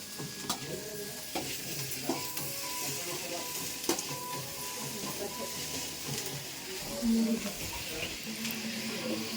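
Food frying in a pan in a village home kitchen, a steady close sizzle and hiss with scattered stirring clatter running throughout, with faint background voices.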